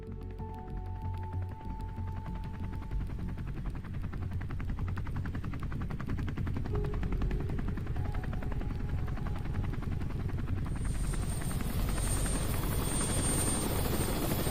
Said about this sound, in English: We were dropped in by helicopter early that morning. The choppers are noisy